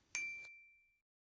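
A single bright notification bell dings once, a clean metallic chime whose high ringing tones hang and fade away over about a second, alone in silence.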